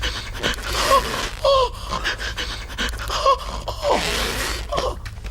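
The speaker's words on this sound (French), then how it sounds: "Prendre une grande respiration" A person breathes heavily and deeply, several loud panting inhales and exhales in an uneven rhythm, close and alone without talk.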